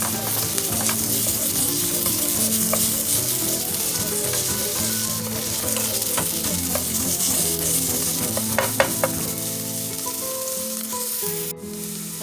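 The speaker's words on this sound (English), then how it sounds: "Now you can go ahead and add in your garlic cloves. Mix that in with the onion." Garlic cloves and onion sizzle loudly in a pan for carne con papas, a steady dense frying hiss broken by scraping stirs and a few sharp clinks of the utensil.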